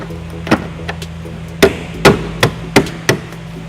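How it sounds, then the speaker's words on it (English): Plastic taillight body plugs being tapped into place on a 2010 Ford Escape during trailer wiring installation, a series of sharp knocks, about seven taps at an uneven rhythm, close up. "I'm just going to line up our body plugs and then just tap it in."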